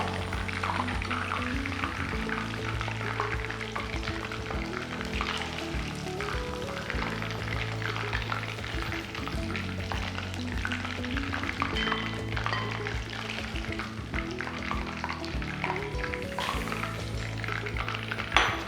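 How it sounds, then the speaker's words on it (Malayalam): Beef tenderloin pieces frying crisp in a pan, a dense continuous sizzle with stirring and occasional utensil clatter, close and steady throughout. "ബാക്കിയുള്ളത് ഇതുപോലെ ഫ്രൈ ചെയ്തെടുക്കാം."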